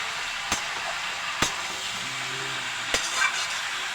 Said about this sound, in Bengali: এখন মশলা দিয়ে কষাবো।